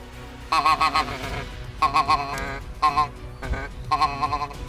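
Geese honk in a hunting area, sounding out in several quick bursts of nasal, repeated calls with brief pauses between groups, close and fairly loud.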